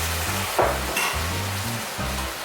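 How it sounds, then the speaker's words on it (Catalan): Pumpkin risotto with goat cheese: rice simmering gently in dark broth is stirred steadily, with a continuous close sizzle and bubbling plus scraping stirs, no talking. "i el treballo, que vagi bullint amb un bull suau, continu, i vaig treballant l'arròs"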